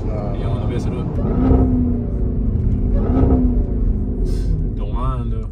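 A Jeep Trackhawk V8 revving loudly, a deep rumbling roar that swells twice with rising pitch, with people talking nearby.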